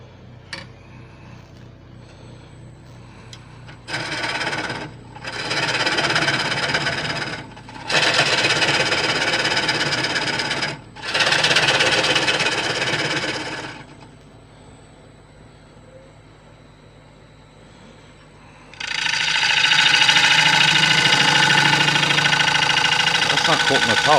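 A lathe gouge turns a cracked white oak yarn bowl blank in repeated cutting passes, each a loud rough scraping roar over the motor's steady hum, with quieter pauses between passes and no talk.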